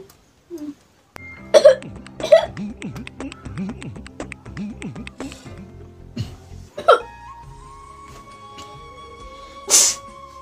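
A few short, sharp coughs ring out close by, separated by gaps, over a steady low hum and a sustained tone.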